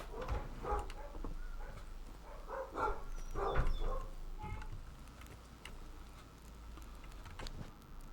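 Dogs bark in Robin Hood: Sherwood Builders, several short, moderately loud barks clustered in the first four seconds over a low background hum, then thinning out.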